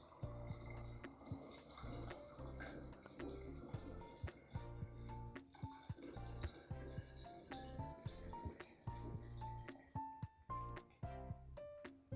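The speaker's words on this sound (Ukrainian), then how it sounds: "Беремо пляшку і наливаємо у неї воду." Water poured into a plastic bottle for a tornado experiment, quiet trickling and dripping with small clinks and splashes, faint and close, with no speech.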